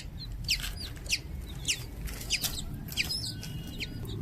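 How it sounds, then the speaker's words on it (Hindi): Desi chicks on a farm chirp in a string of thin, high peeps, about one every half second, close by over a low rumbling background. "ये देखें कितने प्यारे चूजे।"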